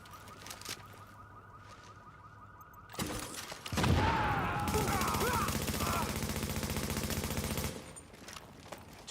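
Automated turrets in The Division 2 fire a sustained rapid burst of loud gunfire for several seconds, after a quieter stretch with a steady alarm-like tone and some talk.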